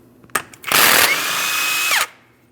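An electric impact tool zipping off a 32mm rear axle nut on a 2005-2010 Chrysler 300 5.7L V8, a short close loud whir lasting about a second and a half after a brief click.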